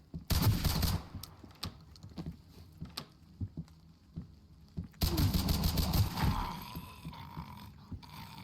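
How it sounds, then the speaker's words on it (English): A 1911 pistol emptied in the game Road to Vostok: a fast run of sharp, loud shots in two clusters, the second followed by a ringing tail, with no talking. "That was a bit of an excessive mag dump."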